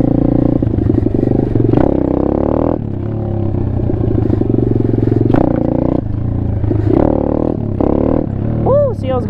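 An Apollo RFZ Chinese pit bike engine buzzes and revs during a wheelie, rising and falling in loud droning surges, with voices talking over it.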